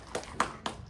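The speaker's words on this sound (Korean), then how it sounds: "하나님 앞에 감사와 영광의 박수 올려드리겠습니다." Church congregation applauding after a prayer at a Korean weekday worship service, heard as a few sparse, faint claps spaced apart rather than full sustained applause.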